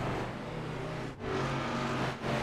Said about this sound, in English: Heard another truck back there.